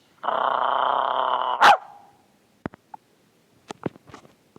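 A single dog gives a sustained throaty growl that breaks into one sharp, loud bark, then a few faint scattered clicks follow in near silence.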